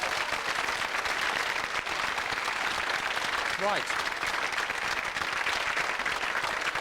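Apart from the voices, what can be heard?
studio audience applause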